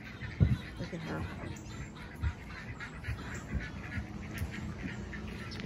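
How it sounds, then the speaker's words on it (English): Ducks on a farm quack in short, uneven bursts, close by and fairly quiet, mixed with other fowl noise and no clear talking. "Good morning, chickadees, duck ducks, Molly."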